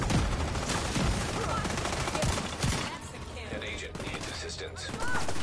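Sustained automatic gunfire and explosions in a mission inside a space administration headquarters in The Division 2 on PlayStation 4 Pro, dense and loud throughout with brief bursts easing around the middle, while a player talks over it.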